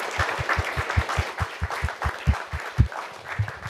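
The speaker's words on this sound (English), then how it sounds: "And I'd invite you to give them one more round of applause for their work." A round of applause for a human rights panel at a live-streamed event, with clear rhythmic clapping that sounds fairly sparse, like a modest group of hands, moderately loud and steady for a few seconds.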